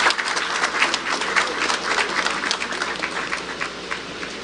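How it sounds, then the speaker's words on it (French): Audience at a ministerial cabinet installation ceremony applauding, a dense sustained clatter of many hands clapping at close-to-mid distance, steady throughout with slight swells and no voices over it. "je demande à l'assistance d'applaudir l'ensemble du cabinet ministériel"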